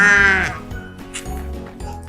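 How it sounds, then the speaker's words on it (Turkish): A sheep bleats loudly with a wavering, quavering cry, then fades into softer, lower animal sounds. "Koyun,"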